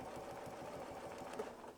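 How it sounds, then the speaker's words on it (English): Sewing machine stitching fabric for a quilt block, a quiet, steady rapid rhythmic whir of needle strokes running continuously. "So I can just start sewing a little bit."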